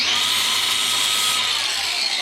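A loud power tool whirs steadily up close while a custom transmission mount is bolted into an LS-swapped 1951 Chevy Fleetline in a workshop, a high sustained buzz that trails off at the end.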